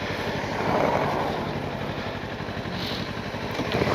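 Engine of a 2026 Kawasaki KLE500 motorcycle while riding in third gear at about 20 mph, a steady, loud, buzzing drone heard close and alone without talk.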